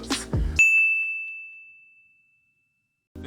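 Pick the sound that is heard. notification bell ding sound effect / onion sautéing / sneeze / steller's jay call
notification bell ding sound effect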